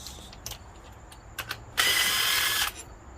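Ratchet wrench working loose the upper engine mount bolts on a 2013 Nissan Sentra, passenger side: a few short clicking bursts, then one longer steady run of rapid ratcheting, close and fairly quiet.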